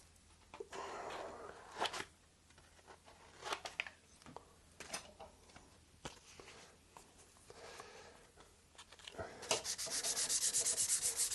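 Wood being hand-sanded with 600 grit sandpaper while preparing a guitar build, heard as irregular close rubbing strokes with short bursts, growing into a steady, brighter scrubbing near the end.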